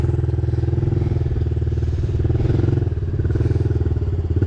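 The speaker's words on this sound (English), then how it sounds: "just tiny amounts in the throttle and it just rolls a little bit" A motorcycle engine idles and rolls forward on tiny throttle openings, its loud, close, evenly pulsing putter holding steady with slight swells in pitch and no hard revving.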